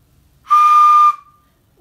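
A single steady, shrill tone from a handmade clay whistle held for about half a second, loud and close, then quickly cut off.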